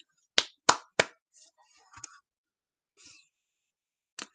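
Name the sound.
children clapping syllables of pumpkin pie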